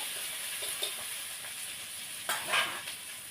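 Loud, continuous sizzle of onions and chillies frying in a wok, with a few brief stirring scrapes and a sharper crackle near the end.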